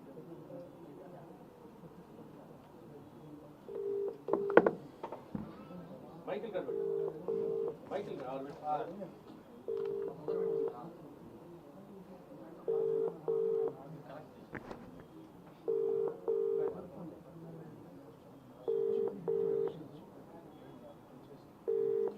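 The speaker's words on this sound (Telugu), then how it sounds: "వాళ్ళందరూ వాడికి ఫోన్ చేస్తా" A phone line plays a repeating pattern of short electronic call tones, evenly spaced, while someone talks continuously over them.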